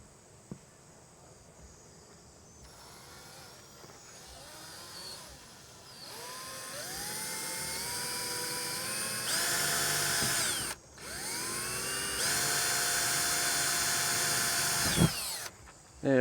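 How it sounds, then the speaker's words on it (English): A power drill bores holes for a caravan door latch, spinning up in several whining bursts that climb in pitch, cut out briefly and restart, loud and close. "time to drill."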